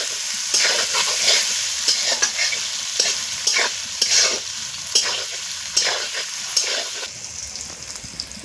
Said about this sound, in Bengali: সোয়াবিনটা আমার ভাজা হয়ে গেছে